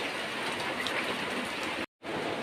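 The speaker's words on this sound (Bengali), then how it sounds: "দেখো বৃষ্টি কেমন পড়ছে" Steady rain hisses down in a dense, even wash, interrupted by a brief moment of silence before resuming.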